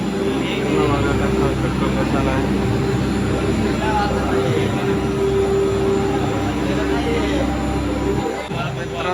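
The Girnar ropeway's cable car motor runs as a loud, steady mechanical drone with a sustained tonal whine, continuous throughout with a slight dip near the end.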